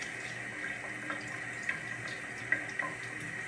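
Water runs steadily from a tap into a sink, a soft continuous wash with a few faint drips and splashes, quiet and with no talk over it.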